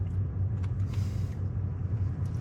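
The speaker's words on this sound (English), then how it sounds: "A little bit of traffic jam." Car engines rumble low and steady in a traffic jam, a close, continuous drone with a faint hiss of passing vehicles and no voices.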